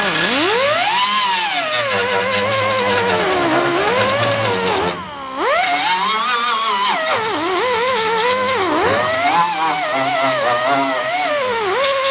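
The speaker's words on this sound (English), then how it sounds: "Grind those down." A grinder works down welded stud nails on a Mustang trunk lid during sheet-metal dent pulling. Its loud, close, whining tone rises and falls as pressure shifts, with one brief drop in the middle.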